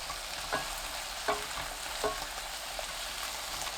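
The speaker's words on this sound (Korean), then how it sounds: "4분 후 마늘, 꽈리고추 넣고 2분 볶아주세요." Garlic and shishito peppers stir-fry in a pan over medium heat, giving a soft, continuous sizzle. A few faint scraping stirs repeat at regular intervals.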